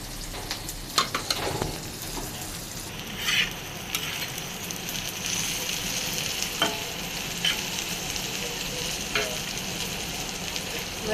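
Small fish pieces frying in oil in a pan, a steady close sizzle with scattered pops and crackles and occasional stirring clatter throughout.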